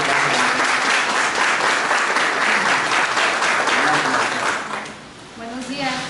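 Loud applause from an audience at a municipal government event, a thick continuous roar of many hands with voices mixed in, easing off near the end as a voice rises over it.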